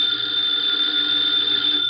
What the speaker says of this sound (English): the ringing of that phone bell means mystery, adventure